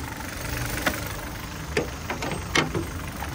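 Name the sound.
Kia Ceed car engine idling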